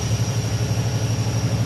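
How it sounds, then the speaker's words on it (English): Cummins N14 diesel engine on a tractor idling steadily, a low, rhythmic throbbing rumble, close and constant without talk. "I'll give you a little of the N14 noise too."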